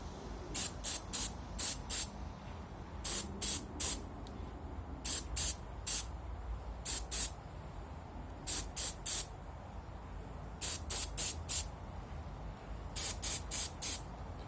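Short bursts of spray paint, Durablue coating applied to Savage/Fox Model B shotgun parts, hiss out in clusters of three or four quick pulses separated by pauses, fairly close and steady over a low background hum.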